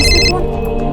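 A phone rings with an incoming call from the office: a bright, tonal electronic ring in the opening third of a second, then a low steady background hum.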